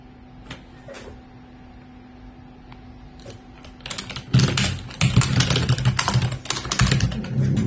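Rapid typing on a USB computer keyboard connected to a homemade Raspberry Pi FPGA board, starting with a few sparse key taps and building into a loud, dense burst of close-up clicking.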